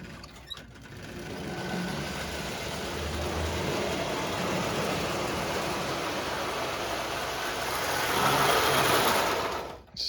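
Marx toy electric train running on its track, a steady whirring motor hum with rattling wheels that swells slightly louder toward the end before cutting off.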